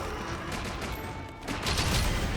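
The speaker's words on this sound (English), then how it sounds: "Nice burst shot to its head." Burst shot gunfire from the video game Monster Hunter Rise: a short flurry of rapid shots, loud and close, swelling toward the end of a brief moment.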